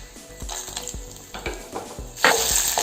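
Urad dal sizzles in hot oil with popped mustard seeds and dry red chilies for a drumstick leaf thoran, a busy close crackle broken by several spoon scrapes and clinks against the pan.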